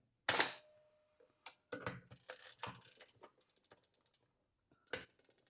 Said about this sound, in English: Meanwhile, the shutter is releasing.